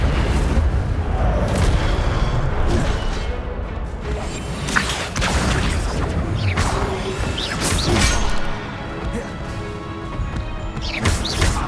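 Incendio fire spells cast in Hogwarts Legacy, loud bursts of flame and crashing impacts repeating through busy combat, with no talking heard.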